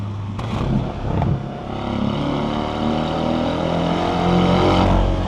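A car engine revs hard on a canyon road at night, a loud, close, sustained drone that swells and climbs in pitch, with a couple of sharper bursts early on.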